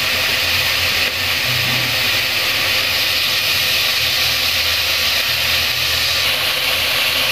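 Ground meat and hotdog cooking in a pot for sopas give off a steady, loud, unbroken hiss and sizzle that lasts throughout with no talking.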